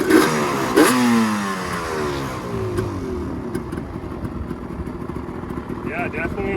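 A Yamaha Banshee quad engine, a two-stroke with pipes or mods, revs loudly and close, rising and falling in pitch with a rattly edge, while people talk over it.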